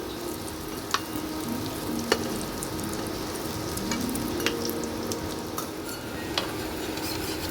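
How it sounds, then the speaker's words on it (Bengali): Chicken cutlets frying in oil at medium heat, a continuous even sizzle with occasional sharp utensil clicks against the pan scattered across it. "মিডিয়াম হিটে আমি এটা ভাজছি।"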